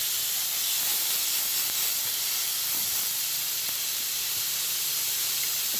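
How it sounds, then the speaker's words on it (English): Steady, even hiss of a beef roast searing in olive oil in a hot pan, continuous and fairly loud for the whole stretch, with no talking over it. "I'm going to hit that with some olive oil and just work it around in the pan. And we're going to give our roast a nice sear"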